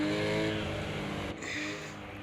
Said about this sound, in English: But maybe over revving that engine every time you spin out.